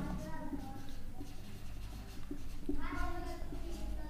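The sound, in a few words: writing physics answer on board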